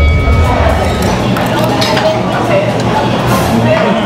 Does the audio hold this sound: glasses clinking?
yes